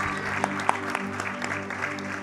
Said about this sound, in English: Let's give them one more round of applause as they head out.